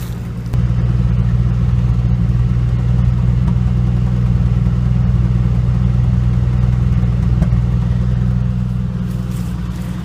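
Cold start of a 1985 Dodge Ram D100 Custom with the 225 Slant 6 after sitting two days in cool weather: a brief crank, then a loud, steady, close engine idle with a low hum.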